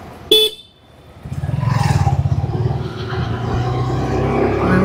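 Car horns honking in dense city traffic on a commute from Mirpur 7 to Banani in Dhaka: one sharp close honk, then a steady rumble of engines and repeated buzzing horn tones continuing over busy road noise.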